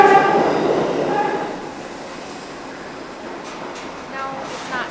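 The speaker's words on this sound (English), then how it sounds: "No, it's not stopping. No, it's not. That one said not in service as it went by." An out-of-service New York City subway train passes a platform without stopping, a loud rolling rumble with some screeching that fades as it moves away, followed by quieter station ambience with faint clatter.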